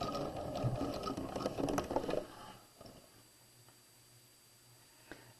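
A sewing machine back stitches a raglan sleeve seam, a close, busy mechanical run for about two seconds that then stops, leaving quiet handling noise and a faint hum.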